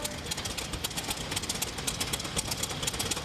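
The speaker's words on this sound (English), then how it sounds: "It's got a 2-cylinder Apollo engine in it. That's how a 2-cylinder engine should run." A 1917 antique tractor with a two-cylinder Apollo engine runs steadily up close, its loud, dense chugging and rattling firing pulses continuing throughout without talk.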